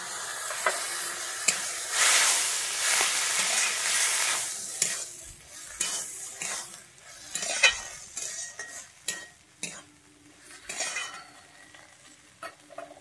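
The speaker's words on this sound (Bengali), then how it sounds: "আমি এবার একটু বাটি ধুয়ে জল দিয়ে দিচ্ছি।" Banana stem curry in a pan on a Bengali village cooking fire, with water poured in over the fried mixture: a loud burst of hissing sizzle that fades, followed by close clanks and scrapes of stirring.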